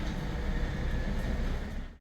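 A train pulls into a station early in the morning, giving a steady, loud rumble and rolling noise that holds nearly level before briefly dipping at the end, with no voices.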